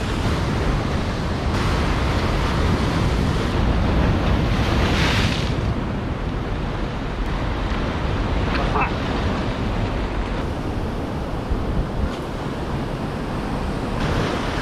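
Large ocean waves break and surge continuously onto the shore during stormy weather, a loud, steady roar of surf with heavy wind buffeting the microphone throughout.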